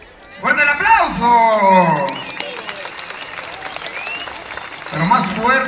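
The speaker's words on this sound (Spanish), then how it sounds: "¡Fuerte el aplauso!" Crowd applause fills an outdoor bullfight featuring dwarf bullfighters in San Miguel de Allende, a loud burst of clapping rising after a shouted voice at the start and continuing steadily as more voices return near the end.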